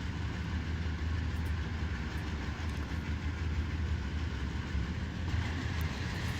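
Diesel locomotives rolling in Train Simulator Classic, Santa Fe and Bessemer steel route, a steady, loud engine rumble with rail clatter that drones without a break and with no talking.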